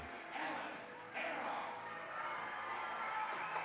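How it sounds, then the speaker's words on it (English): Home crowd at a high school basketball game at Brookside cheering as the Cardinals are introduced, a distant swelling roar and shouts in a gym, with an announcer talking over it. "And the Cardinals now being introduced here to the home crowd."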